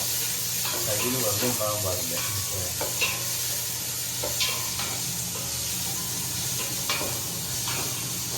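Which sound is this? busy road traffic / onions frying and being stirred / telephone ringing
onions frying and being stirred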